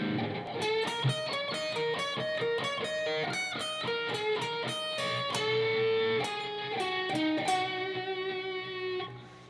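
An electric guitar plays a blues solo slowly, with a clear run of picked single notes and bends in an uneven phrase, close and alone.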